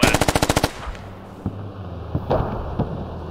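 Rifle fire in the military shooter game Squad, a rapid string of about eight sharp shots in the first half-second, then a few scattered distant thuds and impacts over a low rumble.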